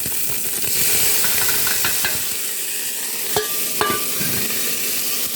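Cumin seeds frying in hot coconut oil inside a pressure cooker give a steady close sizzle with scattered crackles and a few sharp pops and clinks of stirring, alone with no voices.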